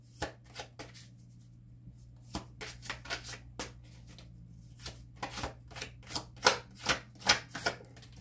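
Tarot cards being shuffled and drawn, with a quick series of close, crisp riffling and slapping sounds in uneven bursts over a steady low hum, growing denser and louder toward the end.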